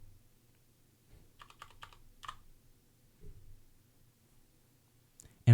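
Computer keyboard keys clack in a short, quiet burst of typing in a still room, followed by a pause and a single sharper, louder press of the enter key at the end.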